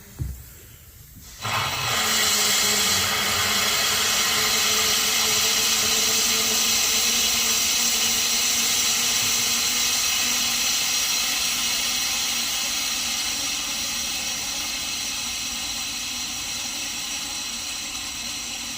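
A pressure washer starts abruptly after a brief quiet moment, its pump running with the valve wide open while being winterized at low pressure. A loud, steady hiss with a motor drone continues unbroken and close until the end.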